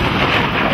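A loud, dense rumble of thunder from a lightning strike fills the moment as a sound effect, broad and roaring without any distinct crack.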